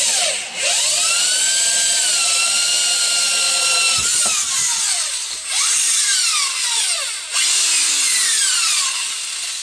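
A power drill whines loudly in several bursts while drilling a hole for a rock tumbler build, its pitch rising and falling as it bites into material, with brief pauses between runs.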